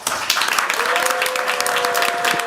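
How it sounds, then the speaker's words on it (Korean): An audience at a National Assembly ESG talk concert in Korea breaks into loud, dense applause mixed with cheering, with a sustained tone like a held voice or feedback running under the clapping. "여러분의 함성과 박수와 함께 힘차게 시작하겠습니다"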